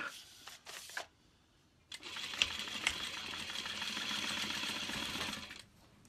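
A sewing machine stitches a Lola domed handbag: a couple of short bursts, a pause, then a long, steady run of close, even stitching with no talk over it.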